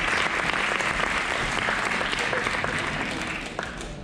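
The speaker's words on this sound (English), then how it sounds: "So please give a round of applause to Jonathan Cuban." An audience at the Digital First 2019 conference breaks into loud, dense applause that holds steady for several seconds and then begins to thin out.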